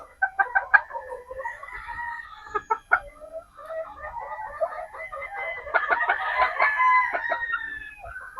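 Sweater gamefowl pullets, a 50-50 cross, cluck in sharp bursts with crowing calls rising among them. The birds sound close and fairly loud, with a denser run of calls toward the end.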